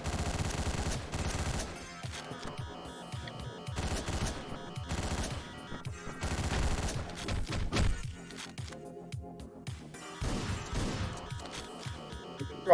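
Rapid bursts of automatic gunfire and single gunshots from the top-down shooter Hotline Miami, loud and close, repeating in clusters over a throbbing synth music track, with crashes between volleys.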